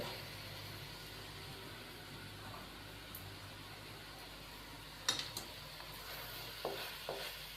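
Boiled macaroni is stirred into spicy vegetables in a pan, giving quiet scraping and soft clicks over a faint sizzle, with a few sharper knocks near the end.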